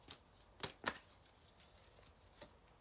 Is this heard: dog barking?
no